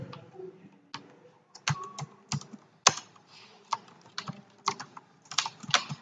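Fingers typing on a laptop keyboard, quick irregular key clicks close by with short pauses between bursts, no voices.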